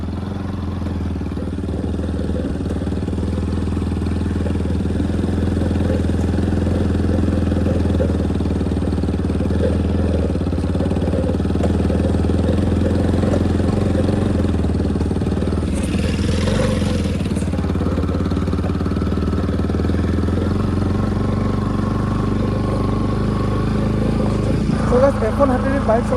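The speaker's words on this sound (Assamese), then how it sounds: "এখন হাতেৰে বাইক চলাই গৈ আছোঁ ইমান বেয়া ৰাস্তাত চাওক।" A motorcycle rides along a rough, rain-slicked road near Guwahati, Assam, with a steady mid-pitched engine drone throughout, a brief rattly burst in the middle and a little clatter near the end.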